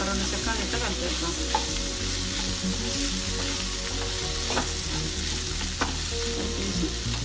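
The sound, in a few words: stirring ginger garlic paste in a frying pan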